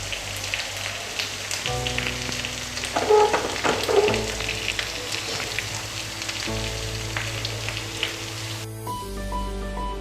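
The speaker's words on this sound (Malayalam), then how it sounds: "നമുക്കിതിലേക്ക് നമ്മൾ പൊരിച്ച ചിക്കൻ ചേർത്ത് കൊടുക്കാം" Fried chicken goes into a pan of sizzling onion masala, a constant close frying hiss with a burst of louder crackles and clatter as the pieces land, then steady sizzling. No one speaks.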